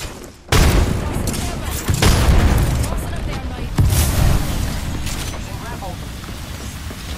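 Grenade blasts in the battle royale shooter Apex Legends: a loud sudden boom that gives way to sustained rumbling, with further heavy bursts about two and four seconds later, dense and close.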